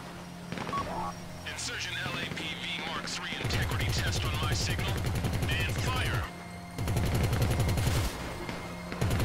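Rapid automatic gunfire from GTA Online during a heist setup, loud bursts rattling in long sustained strings with brief pauses, mixed with game sounds and players talking over it.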